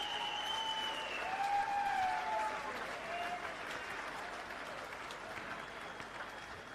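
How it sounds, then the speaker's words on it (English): A crowd at an AFL awards night applauds the announced women's team of the year, a soft, distant, continuous patter of clapping, with sustained tones from background music layered over it. "Please, a round of applause."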